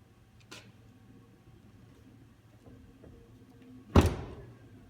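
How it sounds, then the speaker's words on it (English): Two latch clicks from the door of an Adventum Coupe coachbuilt car, a light tick first and then a louder, solid clack a few seconds later, close up in a quiet room. "You can open the door here, or here if you're getting out from the back."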